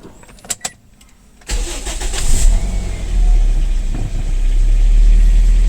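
A Toyota Vios engine cranks and catches after a few faint clicks and a quiet pause, then settles into a loud, steady idle with a brief initial flare.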